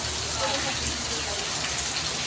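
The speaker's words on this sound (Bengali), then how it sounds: "কত জোরে জোরে বৃষ্টি হচ্ছে।" Heavy storm rain pours down as a dense, steady roar throughout, loud and continuous with no breaks.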